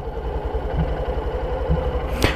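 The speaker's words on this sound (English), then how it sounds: "when I let this out, can you hear the bike changing this noise?" A Honda CB125F motorcycle engine idles close by with a steady low throb, its note shifting slightly as the clutch is released, ending in a brief sharp sound.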